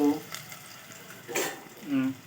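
Food fries in a pan with intermittent sizzling bursts and a few faint scraping stirs, fairly quiet, with brief soft voice sounds mixed in.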